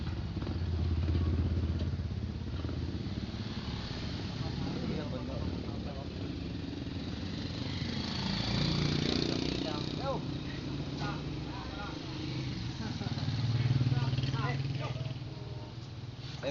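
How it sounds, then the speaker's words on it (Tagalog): Several tricycle engines run and idle nearby, a steady rumbling motor drone with some clatter and swells in loudness, while people talk faintly underneath. "Tay, may mga tricycle."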